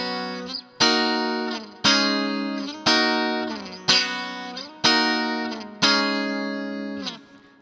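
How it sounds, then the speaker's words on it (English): Clean 1980s-style electric guitar plays a riff of six or seven struck chords at a steady pace, each ringing out and decaying into a big room-like reverb tail, with no voices. "so you have the illusion of sitting in a really big room with really big reverb"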